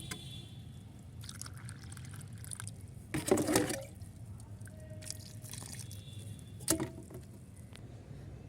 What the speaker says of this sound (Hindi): तो ये डालूँगी फंगीसाइड का पानी भर भर के सभी में।